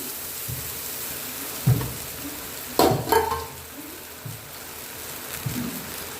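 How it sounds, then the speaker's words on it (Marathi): Fasting khichdi with soaked sago, peanuts, potato and salt being stirred in a pan, giving a soft, steady sizzle broken by several scraping spoon strokes, close and alone without talk. "खिचडी चांगली आता परतून घेऊ सावधाने"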